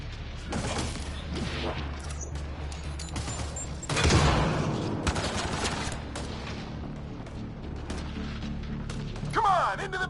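Enemy gunfire rattles in Mass Effect Andromeda combat, scattered shots and bursts with a heavier impact midway, while people talk over the shooting.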